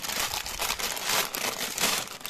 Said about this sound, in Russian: Давайте доставать наши пакетики с деталями.